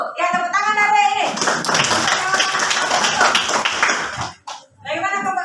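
Primary school class clapping for a student group's answer during a lesson, a burst of hand claps with the teacher talking before and after it.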